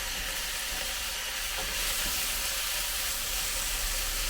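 Swiss chard frying in a hot pan, a steady, close, hissing sizzle that holds evenly throughout with a faint clink or stir partway in.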